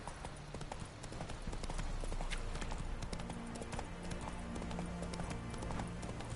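Horse hooves gallop in The Witcher 3 as steady, fast clip-clop beats that run continuously at moderate level, with a low game ambience and music underneath.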